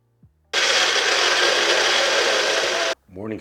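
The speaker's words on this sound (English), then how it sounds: "Morning slushy's done with ice, as always, mixed up, blended up." Kitchen blender crushing ice into a morning slushy, a loud, steady whirring roar for about two and a half seconds that then cuts off abruptly, with a voice speaking briefly afterward.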